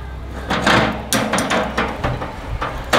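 A Lodge 3.2 quart cast iron combo cooker set down on a smoker grill grate, heavy metallic clanks and scrapes close up over a steady low background hum.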